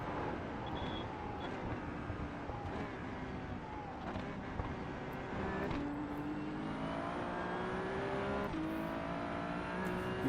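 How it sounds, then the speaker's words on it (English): Damaged Ferrari 296 Challenge in a racing video game at the Nordschleife, engine climbing through gears with steady rising whine, moderately quiet and continuous. "we're going to keep driving the damaged car then, I guess"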